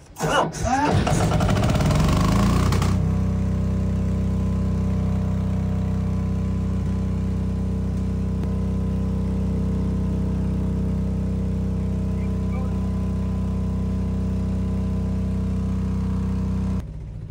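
A generator engine at a beach resort starts with a rough burst and then settles into a steady, loud, droning idle that continues to the end.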